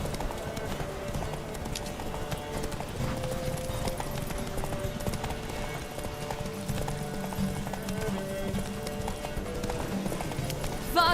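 Roach, the horse in Witcher 3, gallops in a steady, loud clip-clop of hooves that runs the whole way through, with music playing alongside and a brief whinny.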